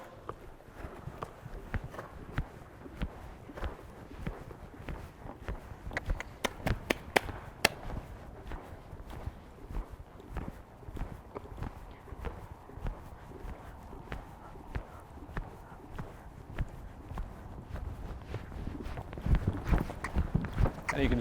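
Horse cantering and jumping on the ground in an equestrian masterclass arena, with repeated hoof thuds and clip-clop footfalls in a steady rhythm throughout, heard close under ongoing talk.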